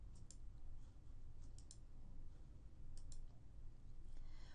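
Several sharp computer mouse clicks on calendar icons in pharmacy software, arriving in quick pairs over a steady low hum, close but faint, with no talking.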